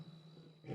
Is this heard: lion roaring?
yes